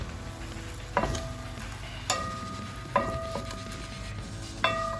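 Beef stir-fried for Korean japchae, with a steady soft sizzle under four distinct metallic utensil clanks against the pan at intervals, close by.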